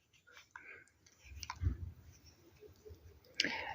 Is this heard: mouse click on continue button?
yes